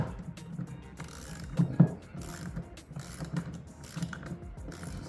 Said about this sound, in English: I'm just going to slowly work the screw in.